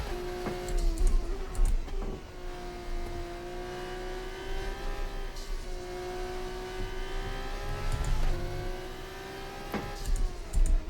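A racing car engine in F1 24 at Spa drones at a high, steady pitch with slight rises and dips as it holds speed, accompanied by gear-shift blips and faint tyre and road noise.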